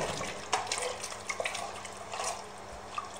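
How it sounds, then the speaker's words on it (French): About a litre and a half of water is poured over a mixture in a salad bowl, giving a continuous close splashing and trickling with scattered drips throughout. "j'arrose avec l'équivalent d'un litre et demi d'eau"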